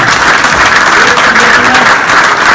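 Loud audience applause at a training event, a dense, continuous roar of many hands clapping close by that stays steady throughout.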